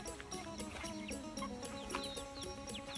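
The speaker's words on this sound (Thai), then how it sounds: "มีไก่ครับ" Several chickens cluck and chirp nearby in a busy, overlapping chorus beside rice fields in rural northeast Thailand, with a faint hum of the outdoors underneath.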